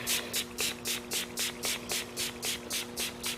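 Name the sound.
spraying K&N refresher onto cabin air filter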